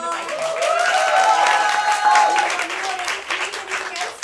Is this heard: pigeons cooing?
no